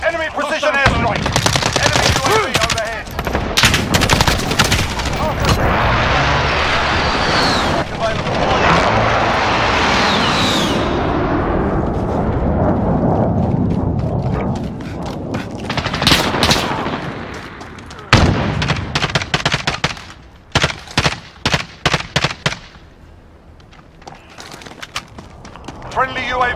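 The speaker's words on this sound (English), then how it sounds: "Precision airstrike available." Call of Duty battle audio with bursts of automatic gunfire and explosive airstrike blasts, dense and loud for most of the stretch, then thinning into separate sharp volleys near the end.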